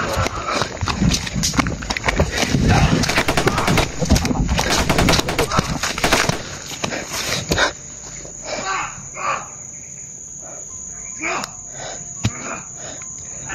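An exchange of gunfire crackles as loud, dense, rapid bursts of shots for several seconds, then thins to sparser, quieter bangs and scattered sounds.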